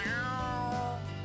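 A cat meows once in a sustained, wavering call lasting over a second, clear and close, with no other sounds, in the video game Trails Through Daybreak 2.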